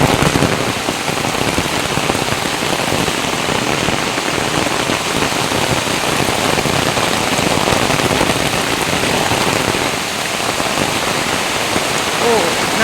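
Heavy rain pours down in a loud, dense, unbroken roar of drops striking surfaces nearby, sustained for the whole stretch with small surges, no voices standing out.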